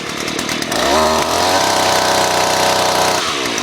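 A Husqvarna 128LD string trimmer's two-stroke engine fires and revs up, then settles into a steady, loud buzzing idle on its auto throttle, heard close with no voices.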